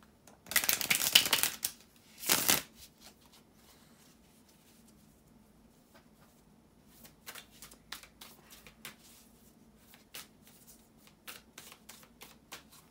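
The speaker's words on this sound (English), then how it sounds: "just stay with me a couple of seconds to shuffle the tarot cards," Tarot cards are shuffled close by in two brisk riffled bursts, followed by scattered soft clicks and taps of cards being handled in a quiet room.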